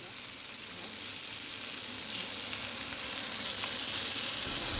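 Chicken roasting on hot sea rocks, giving off a dense, steady sizzle that holds loud and close throughout, slowly growing a little stronger, with no voices.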